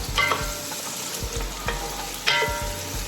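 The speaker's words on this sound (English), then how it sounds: "you just wanna saute this for about 5 minutes or until everything is nice and soft" Celery, spring onion and other vegetables for mushroom soup sauté in a pan, with steady close sizzling and a few stirring scrapes throughout.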